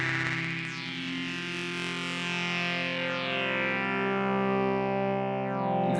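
Sustained synthesizer tone in Ableton Live shaped by a harmonic filter, its input frequency shifted so the buzzy, distorted timbre sweeps and thickens, steady and loud throughout with no talk.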